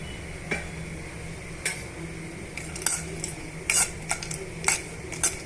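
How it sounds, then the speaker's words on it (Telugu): Dry fruits stirred in hot ghee for semiya payasam: a spoon clinks and scrapes against the pan in scattered, irregular taps over a faint, steady background frying hiss, with no talking. "ఘీ వేసుకున్న తర్వాత డ్రై ఫ్రూట్స్ని ఇప్పుడు మనం వేయించేసుకుందామండి"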